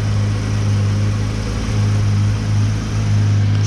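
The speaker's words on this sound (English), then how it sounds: "Why'd you turn the car on?" Car engine running at a steady idle right after being started, a low constant hum close by and alone.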